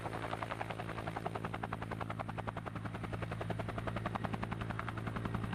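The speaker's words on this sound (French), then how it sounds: "L'hélicoptère atterrit." A helicopter's rotor beats in a fast, steady thumping rhythm over a low engine drone as it comes in to land, loud and continuous throughout.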